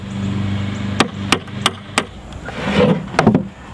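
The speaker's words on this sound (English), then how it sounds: "You may need your hammer to bang it in there a little bit." A hammer strikes a bolt through a washer while building a backyard ninja course obstacle, giving several sharp metallic bangs spaced about a third of a second apart, then a quick cluster of taps near the end over a low hum.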